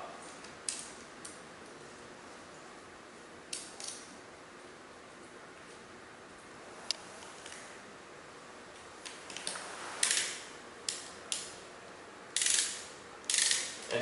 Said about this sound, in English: is where the socket wrench comes into play